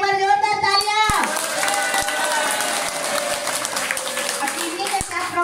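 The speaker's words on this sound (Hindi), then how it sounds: "एक बार जोरदार तालियां।" Audience applause at a health talk gathering, loud, steady clapping from a crowd filling the whole stretch, close by, with a sustained tone and voices faintly mixed in underneath.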